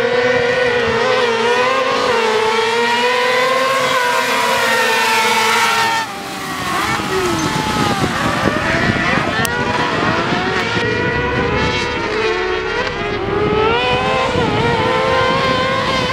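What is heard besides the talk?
car cross race cars starting the second heat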